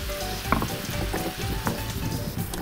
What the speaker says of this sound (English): So I'm just gonna grind these up.